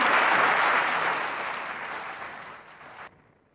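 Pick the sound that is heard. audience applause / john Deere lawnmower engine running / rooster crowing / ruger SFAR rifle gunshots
audience applause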